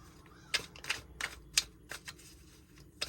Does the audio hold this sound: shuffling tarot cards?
yes